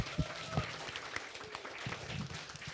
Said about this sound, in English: last round of applause for Prof.